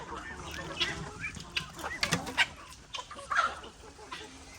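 A domestic hen clucks softly outdoors at a home yard, with short scattered calls at moderate distance amid background ambience and a little nearby talk.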